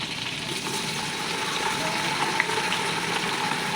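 Onions and tomatoes fry in a pan for biryani, giving off a continuous moderate sizzle with soft bubbling and a few small pops, close and steady throughout.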